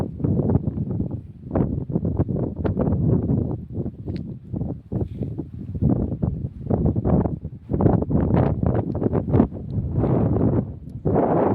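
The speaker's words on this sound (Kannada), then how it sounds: "ಎಲ್ಲ ಕಡೆನೂ ಚೆನ್ನಾಗಿ ಗಾಳಿ ಬೀಸ್ತಾ ಇದೆ" Gusty wind blows across an open, empty place, battering the microphone in loud, uneven bursts with short lulls between them; no one talks.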